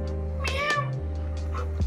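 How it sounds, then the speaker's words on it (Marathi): A cat meows up close, two clear drawn-out calls followed by softer trailing ones, over a steady low hum, during a family trip near Nagaon beach in Alibaug. "ये मांजर आली, मांजर आली. हे बघ मांजर आहे. म्याव."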